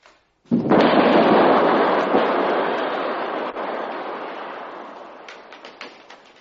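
Bomb explosion sound effect in a radio drama, a sudden loud blast followed by a long rumbling roar that slowly fades over several seconds, with faint crackling debris near the end.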